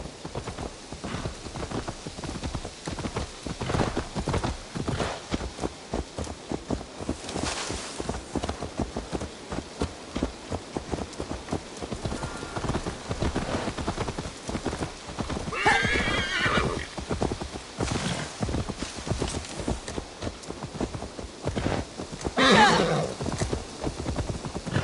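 Horse hooves in Assassin's Creed Valhalla, a continuous fast clip-clop of galloping with several loud whinnies breaking through, alongside a rain-like background hiss.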